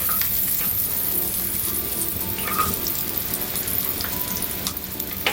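Onion frying in a wok while being stirred, a steady loud sizzle filling the whole stretch with occasional scraping, no voices.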